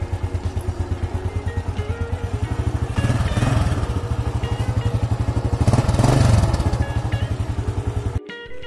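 A Honda Astrea Grand motorcycle engine idles steadily up close, a smooth, even pulsing putter that swells slightly in the middle before cutting off abruptly near the end.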